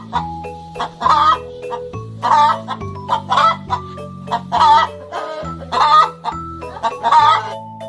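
A hen clucks in a steady series of loud, close calls, over about eight seconds with no other sounds.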